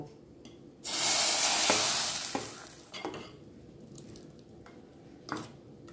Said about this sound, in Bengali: অল্প সরষের তেল ভালো করে গরম করে নিয়ে এসেছি, এটা দেব।